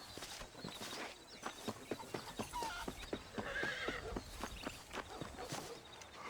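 In the Red Dead Redemption western game, a horse whinnies and its hooves clop in a steady, even rhythm on the ground, fairly close and at moderate volume, with faint outdoor ambience behind.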